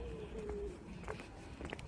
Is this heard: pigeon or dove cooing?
yes